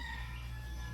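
A small bantam chicken giving a brief, sustained call, close and steady, with no voices.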